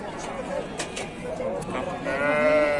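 Sheep bleating in short, wavering calls at a weekly market in Agdz, Zagora, while someone talks over them close by, with a longer bleat near the end.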